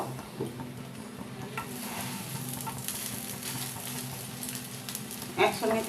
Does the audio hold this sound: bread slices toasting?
yes